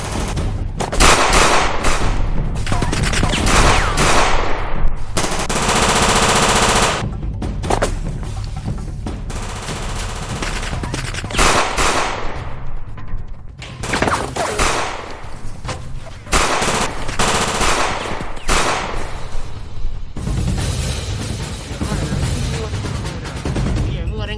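Machine gun fire in an action scene from a 2025 Jamaican movie: loud, close rapid bursts of automatic shots and fusillades rattle almost continuously with brief pauses, with shouting voices mixed in.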